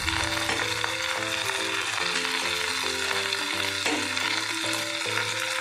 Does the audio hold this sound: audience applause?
no